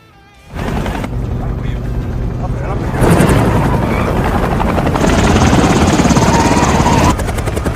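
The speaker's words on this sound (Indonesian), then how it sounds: "helikopter" Helicopter in an action film scene as armed men ambush a convoy, a loud steady rotor roar that starts suddenly and swells, layered with other film sound and voices.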